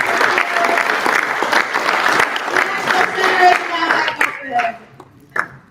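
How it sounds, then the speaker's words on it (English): Conference audience at a construction owners summit applauds a panel, dense clapping that runs strong for about four seconds, then thins into a few scattered claps and fades. "Would you please give our panel and all of your colleagues around the room a round of applause"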